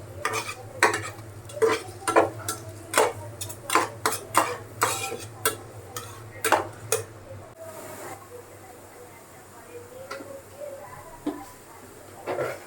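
Onions frying in a pan for a fish curry, stirred with a utensil in rapid clattering scrapes for several seconds, then a quieter simmering sizzle with occasional taps.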